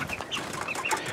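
Chickens cluck and chirp softly at a homemade 5-gallon bucket waterer, a few short calls overlapping in a brief burst.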